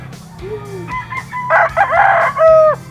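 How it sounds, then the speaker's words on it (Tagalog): Roosters crow and hens cluck at close range in a fighting-cock yard, with several overlapping crows rising in loudness toward the end over a low background hum. "Ito yung mga manok ni Boss Eric"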